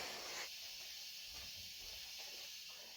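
A steam iron hisses steadily while ironing at home, a constant airy rush of steam with faint soft thumps of the iron moving beneath it.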